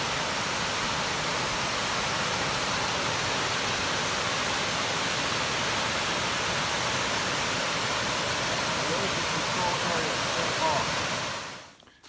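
Rushing creek water on the Foothills Trail near Laurel Creek, a steady broadband roar that runs loud and unbroken for the whole stretch before cutting off at the very end.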